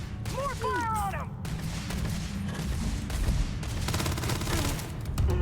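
Gunfire in a firefight in the video game Starfield, rapid bursts of automatic shots and booms running continuously, loud and close, with shouting voices heard over the shooting.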